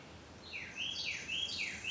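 Several birds chirp and sing outdoors in a quick series of high, sweeping calls that overlap and repeat, moderately close over a faint, quiet background.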